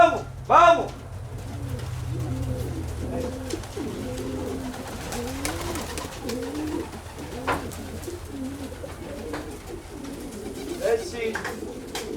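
Pigeons coo in repeated rolling phrases inside a loft at feeding time, several birds close by and fairly loud, with a low steady hum beneath and occasional wing flutters.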